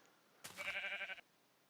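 A single Minecraft sheep bleats once, a short wavering call lasting under a second over a faint hum.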